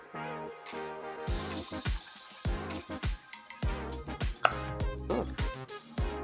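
A knife slices open PB&J peanut butter M&M's candies, giving several sharp cutting clicks and taps at irregular intervals over steady background music.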